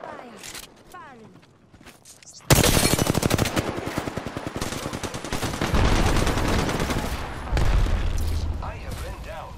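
Rapid automatic gunfire from Apex Legends erupts suddenly after a quieter stretch, sustained loud bursts of shots with booming impacts and short pauses, while players talk over the action.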